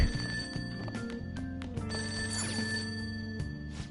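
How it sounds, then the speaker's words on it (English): A telephone ringing in the video game Persona 5 Royal, a repeated electronic ring over game background music, no voices. "Oh, phone's ringing."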